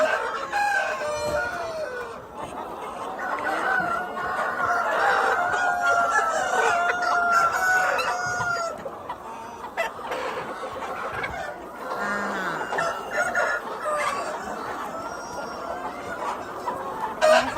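A breeding rooster on a Thai poultry farm crows loudly and close, its long call drawn out over several seconds, with hens clucking around it and more crowing and clucking continuing through the clip.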